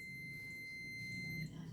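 A multimeter's continuity buzzer sounds on the airbag (SRS) wiring of a Toyota Fortuner 2TR. It is a steady, high electronic beep held for about a second and a half, then cut off, in a quiet room.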